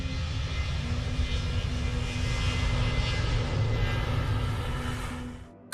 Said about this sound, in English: the MD-82 accelerated down the runway, lifted off